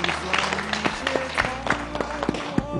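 A studio audience at a Beijing TV dating show breaks into a steady burst of clapping, with tonal sound underneath.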